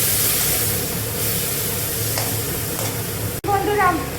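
Malabar spinach fries with garlic and chili in a hot pan, giving a loud, continuous sizzle with stirring noise, then a brief sharp break and a voice speaking near the end.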